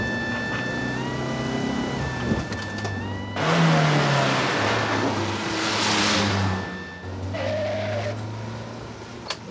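A getaway van accelerates away with a car following behind, engine roar swelling and fading as the vehicles pass close by in a street chase, with a steady tonal hum underneath throughout.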